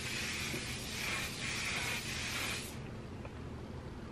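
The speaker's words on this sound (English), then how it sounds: "So it sprays on like a mist" A steady, soft hiss of fine mist spraying for a few seconds, pulsing slightly, then stopping, leaving quiet room noise.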